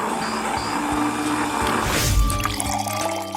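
A blender whirs as it mixes Oreos and caramel syrup, starting with a wet churning and swelling into a louder grinding roar partway through, close and without talking.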